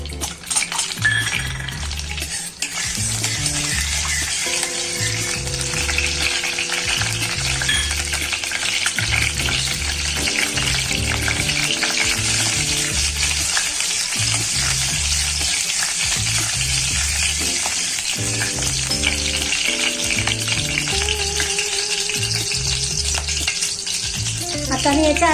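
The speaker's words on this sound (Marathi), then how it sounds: "आता मी इथे याच्यामध्ये खडा मसाला टाकणार आहे" Whole spices fry in hot ghee in a pan, giving a loud, steady, close sizzle throughout, with rhythmic scraping and stirring clatter from a spoon against the pan.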